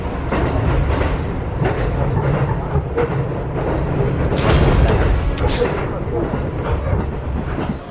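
A train ride in Japan, with a steady loud rumble and rattle of the carriage running throughout and voices chatting over it.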